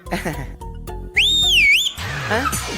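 A loud, shrill whistle rising and bending in pitch for under a second, following a stretch of rhythmic music-like sounds, with a deep voice-like swoop afterward.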